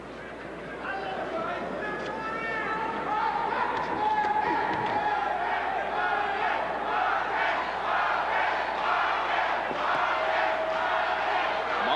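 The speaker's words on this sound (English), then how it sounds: "Marquez fans in the crowd chanting Marquez, Marquez" Boxing crowd at a Freddie Norwood versus Juan Manuel Marquez fight chanting a fighter's name, a loud roaring arena of rhythmic voices building and holding for twelve seconds.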